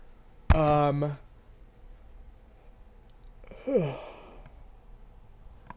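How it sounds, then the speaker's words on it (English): A person yawns twice: a loud, drawn-out vocal yawn followed a few seconds later by a softer, shorter one, close to the mic with quiet room noise between. "Sorry, I had to yawn."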